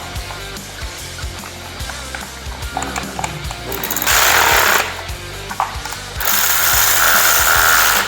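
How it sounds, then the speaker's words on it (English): Bolts being screwed in by hand under the plastic clamp of a Thumpstar TSK 50/90 mini bike's front mudguard during assembly: close ratcheting and clicking mechanical noise with bursts of louder hissy rasping, no talk. "You're just going to take the 4 supplied bolts and screw them in"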